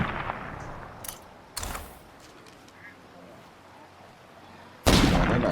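Gunfire in State of Decay 2: a few scattered sharp shots early on, then a loud, dense burst of firing near the end over a quieter ambient background.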